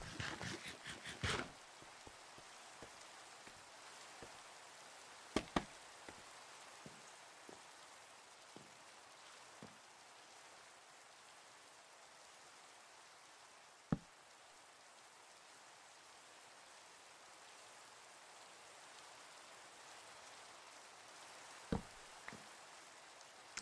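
Steady rain hiss falls across a video game scene with roof repairs in a citadel, broad and soft at low level, broken by a few sharp clicks and taps; no voices.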